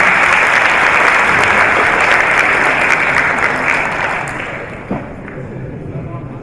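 Audience applause at a commemorative event in Baku, loud sustained clapping from a large crowd that gradually thins and fades toward the end.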